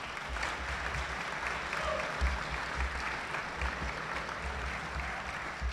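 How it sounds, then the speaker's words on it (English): Audience applause for a school's principal and assistant principals at a fall sports awards ceremony, a steady mass of clapping in a large room lasting several seconds, moderately distant and fairly even in level. "Give them a round of applause."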